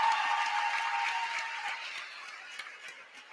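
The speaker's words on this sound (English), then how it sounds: "Let's give a big round of applause to the Hollis family" An audience at a Locust Fork high school girls' basketball game applauds the Hollis family, a broad crowd clapping that gradually fades over a few seconds.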